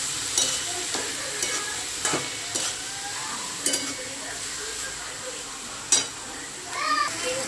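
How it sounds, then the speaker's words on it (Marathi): Tomatoes for onion-tomato chutney sauté in a pan with a soft, continuous sizzle. Scattered scraping strokes and spatula knocks punctuate it, and faint background voices can be heard. "आता आपण टमाटा टाकून टाकून घेतलेला आहे ह्याला मस्त असं परतून घ्यायचा"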